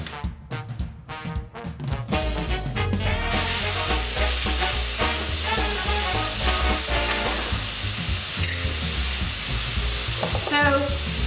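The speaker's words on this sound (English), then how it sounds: "we'll add in our onions and our spinach to it while they get browned" Onions and spinach sizzle and crackle with potatoes in a hot pan, a steady frying hiss under clinking stirring and scraping, close and continuous throughout with no talking.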